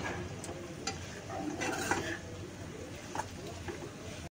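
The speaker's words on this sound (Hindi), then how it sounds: "आता आपण पनीर आहेत ना ते टाकून घ्यायचे त्यामध्ये आणि फ्राय करून घ्या" Paneer frying in a pan for chilli paneer gravy gives a soft sizzle broken by scraping stirs and a few light spatula clicks close by, with a little background talk.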